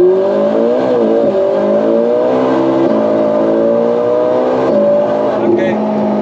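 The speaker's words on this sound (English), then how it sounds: "Yeah, it's cold tire chatter." A car driven hard on cold tires, its engine droning steadily with shifting pitch as a juddering tire chatter runs through it, loud and close from inside the cabin.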